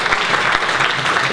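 Audience applause for Brian at the GMP 2016 opening ceremony, a dense, steady wash of many hands clapping throughout, fairly loud and close with no break.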